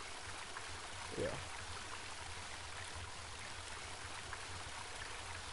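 Steady rushing of a river stream in a video game, a constant broadband wash with no talk, holding even in level throughout.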